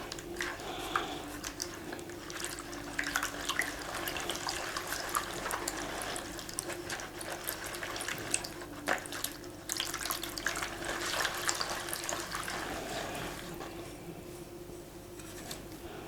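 Steady running water from a tap pours continuously for the full stretch, with a few faint clinks and splashes mixed in.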